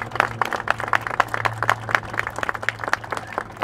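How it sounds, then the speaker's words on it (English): An audience at a Levitt park groundbreaking ceremony gives a short round of applause, with scattered, fairly light hand claps from a small crowd that taper off within a few seconds. "Let's have a round of applause for Mike."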